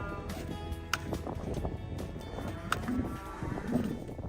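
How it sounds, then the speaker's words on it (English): Cows and calves lowing in the background, drawn-out moos rising over a steady outdoor rumble, moderately distant. "you'll have heard the calves and the cows mooing away in the background"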